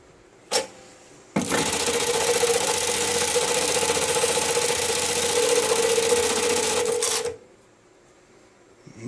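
A JACK JK-T1900BLX electronic tacker stitches a programmed pattern, a steady close mechanical whir running for about six seconds after a brief click, then stopping.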